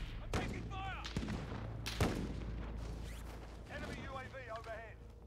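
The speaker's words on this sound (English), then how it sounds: "I'm taking fire" Gunfire crackles in Call of Duty Warzone, with several sharp close shots and distant bursts scattered through the moment while a player talks over the action.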